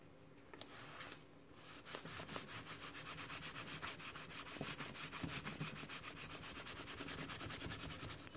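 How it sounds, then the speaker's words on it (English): A soft cloth buffs a leather notebook cover after sealing, producing a steady, rapid rubbing swish that continues close and even throughout, with quick rhythmic strokes. "Now I'm just going to go over and just buff any excess off."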